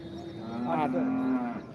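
A cow at a village cattle market lets out a single drawn-out moo, close and clear, lasting over a second against faint background murmur.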